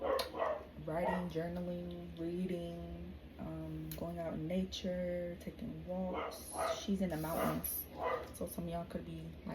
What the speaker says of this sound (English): Sorry for that dog, he's really loud.